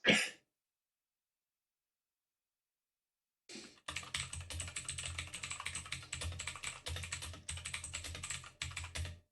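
Fast, dense typing on a computer keyboard, a steady flurry of rapid clicks running for several seconds after a short gap of silence.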